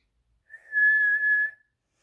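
A person whistles by sucking air in, making one clear, steady, high-pitched tone that lasts about a second, close and alone in near silence.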